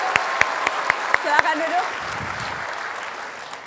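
A studio audience on the Mata Najwa talk show claps for two Jakarta election candidates. Brief, sparse applause fades quickly while a host speaks over it.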